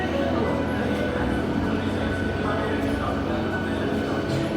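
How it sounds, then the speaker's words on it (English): A train passes at a railway station platform with a steady, moderately loud rumble and rolling rail noise that fills the whole stretch, while a person talks over it. "There's a train."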